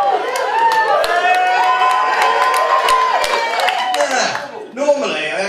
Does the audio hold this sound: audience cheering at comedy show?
yes